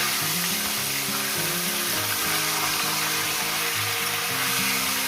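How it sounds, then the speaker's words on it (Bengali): Chicken frying in a pan over a high gas flame, a loud steady sizzle that stays dense and unbroken throughout, close up, with faint background music. "মিনিমাম সাত থেকে আট মিনিট আমি চিকেনটাকে ফ্রাই করবো"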